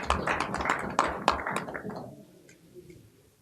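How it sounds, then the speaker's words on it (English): Applause during a national council session, a burst of many hands clapping in the hall that fades out over a few seconds into quiet room tone. "Please give me a hand of applause"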